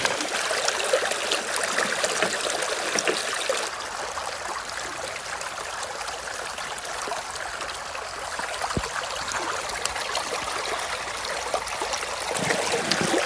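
Water from a glacial stream runs steadily through a gold sluice box, a continuous rushing trickle close by that eases slightly partway through before building again.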